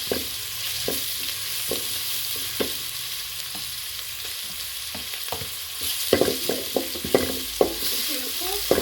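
Garlic and ginger fry in a pan with a constant close sizzle, while scattered clicks and scrapes of stirring grow busier toward the end.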